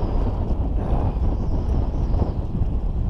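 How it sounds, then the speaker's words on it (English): Strong wind buffets the microphone on a lake while catfishing from a boat, producing a steady, loud, low rumbling roar with no pause across three seconds. "It's so windy, you can't hear yourself think out here."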